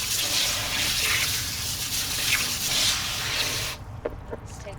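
An outdoor garden hose sprays cool water to rinse a horizontally pleated tie-dye tee, a close, steady hissing rush that cuts off near the end, leaving a few faint drips and splashes.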